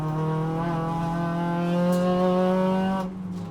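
A front-wheel-drive car on Nankang tyres laps a race track, its engine holding a steady loud droning whine with rising harmonics before the note drops away near the end.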